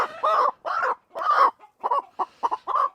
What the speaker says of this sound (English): It's a beautiful chicken right there.